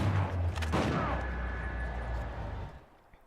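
Shotgun fire in Uncharted 4 multiplayer, a dense burst of loud blasts and crackling game combat noise that fades out near the end.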